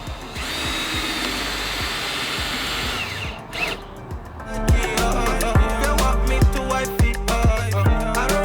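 Power drill whining as it drives screws into a wooden raised garden bed, a long steady whir followed by several short bursts and stops, close and loud.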